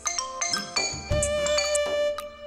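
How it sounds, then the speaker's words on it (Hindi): A phone ringtone plays a bright, chiming electronic melody of quick repeated tones and one sustained note, clear and close, with no voices over it. "रिंगटोन अच्छी है।"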